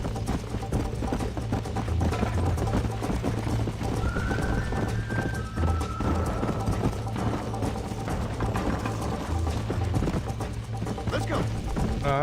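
Galloping horse hooves in Red Dead Redemption, a steady clip-clop rhythm running throughout under a dense game soundscape of music and effects, with someone talking over it.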